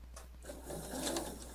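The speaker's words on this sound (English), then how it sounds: "Continue sewing right to the front edge." A sewing machine stitching along the neck edge of a pullover, giving a faint, quick run of rhythmic mechanical ticks and whirs under a low steady hum.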